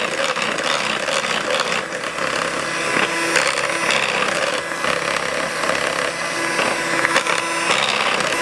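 An electric stand mixer beats a creamy homemade coffee ice cream mixture, producing a continuous close whirring with a gritty, rubbing texture and small fluctuations in loudness.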